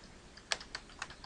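Typing on a computer keyboard, a short burst of soft, close keystroke clicks at an irregular pace, quiet and alone.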